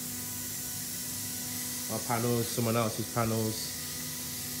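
Spray painting of motorcycle panels for a Yamaha Raptor R1 superquad conversion at a body shop: a steady, even hiss runs throughout, with a person talking briefly over it in the middle.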